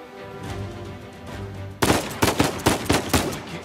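Rapid bursts of gunfire in the Uncharted 4: A Thief's End video game, starting abruptly after a quieter stretch of low rumble and then cracking out loud and close in an uneven run of about eight shots.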